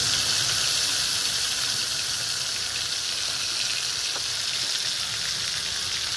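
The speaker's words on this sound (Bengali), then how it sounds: "তেলটা একটু গরম হোক। এবার আমি জিরে বাটা দিচ্ছি।" Cumin paste sizzles and fries in hot oil in a pan while a Bengali fish curry is being made, a steady, close hiss that runs loud and unbroken throughout with no talk.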